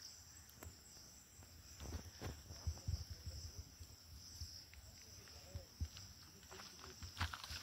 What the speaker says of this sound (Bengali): দেখো চারিদিকে শুধু নিরিবিলি ঝিঝি আওয়াজ হচ্ছে শুধু।